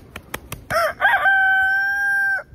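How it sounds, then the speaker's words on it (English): A few short clucks from chickens, then a rooster lets out a loud, close crow that holds for over a second before cutting off. "I don't think I should be talking too close to the chickens."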